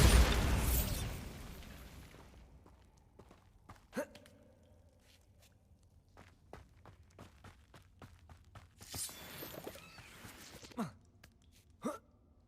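A Bombarda spell explodes in Hogwarts Legacy as a loud burst right at the start that fades over about two seconds. Scattered small pops and soft game sounds follow, with a second cluster of noise later.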